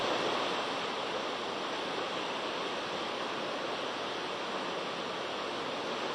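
Steady broadband rush of the Godavari at Godaghat in Nashik, risen high after dam discharge during rain, a continuous full roar of water holding even throughout with no voices.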